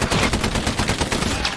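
Rapid machine-gun fire in the World War II shooter Hell Let Loose rattles in a dense, continuous burst, loud and close, with no talking.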